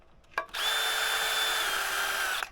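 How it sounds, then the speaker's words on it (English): A power drill bores a 1/8-inch pilot hole for genset mounts, giving a short tap and then a steady high-pitched whine held for about two seconds before stopping, close and alone. "1/8 of an inch hole drilled as a pilot down there"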